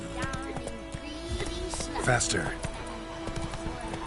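Galloping hooves of Roach the horse in The Witcher 3 game, a rapid steady clip-clop under game music, with a voice speaking over it.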